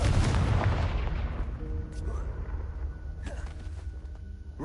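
A Confringo fire spell in Hogwarts Legacy bursts with a loud, booming blast right at the start, then rumbles and fades over several seconds under faint ambient game sounds.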